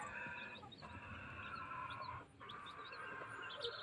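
Young incubator-hatched chicks, about a month old, chirp and peep repeatedly inside a cage, a steady cluster of high calls with occasional clucks, close and moderately loud, no voices.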